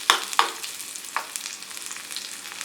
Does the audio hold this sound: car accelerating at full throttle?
no